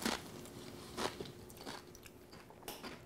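Close biting and chewing of homemade guacamole, a few soft crunchy bites at the start and around the one-second mark, then quieter wet mastication continuing without talk.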